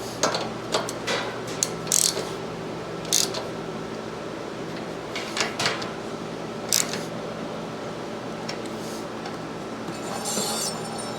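Ratchet wrench tightening bolts on a mini bike chopper's disc brake conversion, heard as scattered short clicking bursts and metallic clinks over a steady low hum, fairly close, with pauses between strokes.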